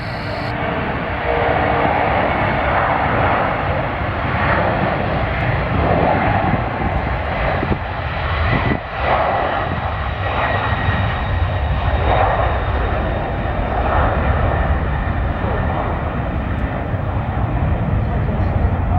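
A propeller plane drones loudly and steadily overhead at an airshow, its engine roar filling the whole stretch, with voices faintly mixed in.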